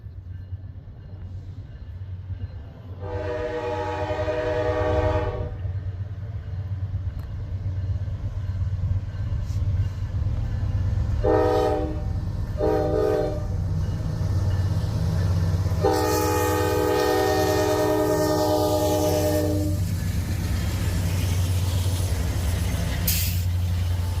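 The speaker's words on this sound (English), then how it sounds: "I have a feeling we're going to have two trains coming here, maybe, possibly at once here" A Norfolk Southern freight train hauling vinyl chloride passes near Poorman Road. Its loud horn sounds in several long and short blasts over a steady low rumble of rolling wagons, with a brake hiss near the end.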